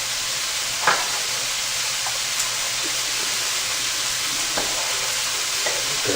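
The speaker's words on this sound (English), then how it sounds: "I will just mix it, the meat, with the tomato sauce." Venison meat is stirred together with tomato sauce in a pot for chili, giving a steady soft sizzle with a few sharp spoon scrapes and clicks against the pot.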